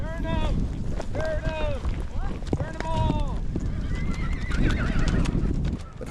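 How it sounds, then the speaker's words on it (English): A colorful herd of ranch horses, many of them paints, is driven on a spring horse drive. Repeated loud neighs and whinnies rise over continuous hoofbeats and wind, with people shouting and talking throughout. "Driving horses is a bit like a cattle drive."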